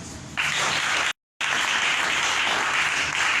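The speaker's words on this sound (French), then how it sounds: "Applaudissons notre Dieu." Church congregation breaking into applause, dense sustained clapping that swells after a moment, briefly cut by a short gap of silence, then continuing loud and steady.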